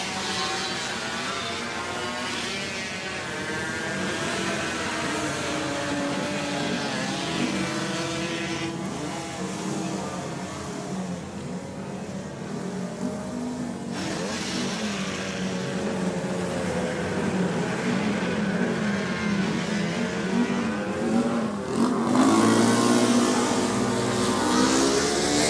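125cc Honda race motorcycles on a public-road circuit at the Cookstown 100, engines buzzing and revving as the bikes pass, rising sharply near the end as one goes by close and loud.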